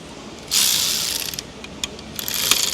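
Socket wrench with an extension ratcheting on a bolt during a body-off teardown of a Duramax LBZ 6.6 truck, rapid clicking bursts in short runs with pauses, close and fairly loud.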